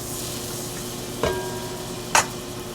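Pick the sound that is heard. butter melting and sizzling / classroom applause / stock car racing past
butter melting and sizzling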